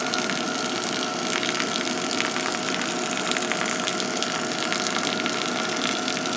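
Hot water pours in a steady stream around the edge of coffee grounds during a hand drip brew, a continuous close, bright splashing rush with no pauses and no voices.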